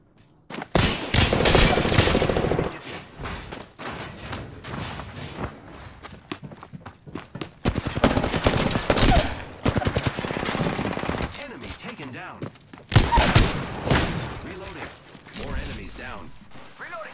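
Video game combat with three loud bursts of rapid automatic gunfire, each lasting a couple of seconds and separated by quieter stretches with footsteps and movement, plus occasional speech.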